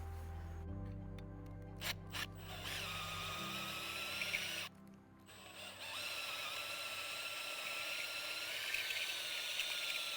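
A handheld drill spins a deburring bit against a big burr on a hole in a van body: a low motor drone first, brief stops, then a steady high whining grind as the bit bites the metal.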